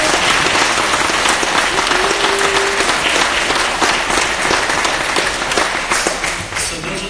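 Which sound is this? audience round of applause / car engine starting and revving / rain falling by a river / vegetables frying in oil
audience round of applause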